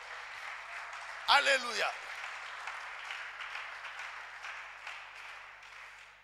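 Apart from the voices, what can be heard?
congregation applauding in church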